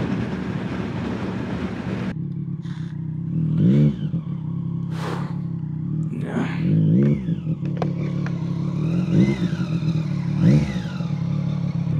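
A Triumph Street Triple 765 or Speed 400 motorcycle on a ride beside a lake, its engine revving in repeated rising and falling bursts with a steady rumble underneath, close and fairly loud.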